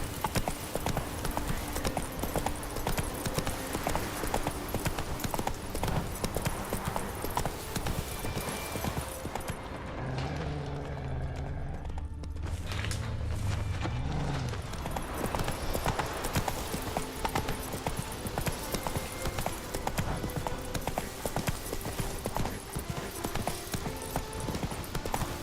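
Hooves clip-clop steadily as Roach is ridden in The Witcher 3: Wild Hunt. The rhythmic trotting runs the whole way over dense game music and ambience, easing briefly in the middle before picking back up.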